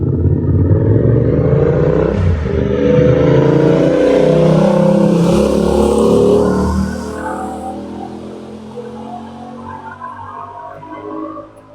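A motor engine revs hard nearby, a loud rumbling roar that climbs and holds for several seconds, then fades into a lower idle as it quiets toward the end.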